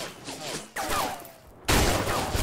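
Gunfire in the shooter video game Line of Sight, loud rapid bursts of shots close up, with the last burst heaviest and sustained to the end.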